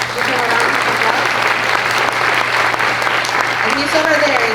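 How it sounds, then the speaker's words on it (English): An indoor audience at a conference breaks into sustained applause, a dense, steady wash of many hands clapping throughout, with faint voices underneath. "Give him a round of applause."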